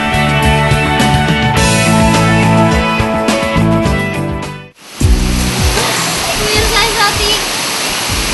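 Music plays first, then cuts to the loud, steady roar of the waterfall at Curug Kalinumpang on the Citumang river in Pangandaran, rushing close by and filling the rest of the clip.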